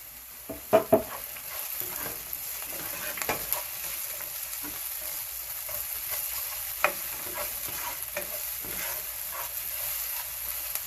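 Garlic frying in a pan over medium heat, a steady close hiss and sizzle with occasional light stirring clicks.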